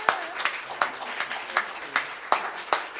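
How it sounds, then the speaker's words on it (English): A church congregation claps during a Sunday service, a round of applause with distinct, fairly evenly spaced claps heard at moderate distance. "Let's give them a round of applause."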